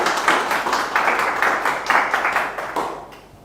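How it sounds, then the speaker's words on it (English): A crowd claps steadily for a few seconds at a PHP conference talk, many hands at once, then the applause thins and fades out. "let's get another round of applause for Adria"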